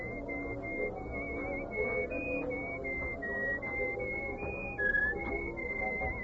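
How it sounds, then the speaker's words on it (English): A person whistles a melodic tune alone at moderate volume, steady sustained notes with small pitch bends and brief slides, in a quiet room. "you were whistling our tune"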